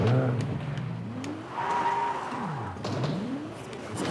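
A Ferrari in a video game drives along with its engine pitch rising and falling through gear changes, accompanied by some tire squeal, with no talking.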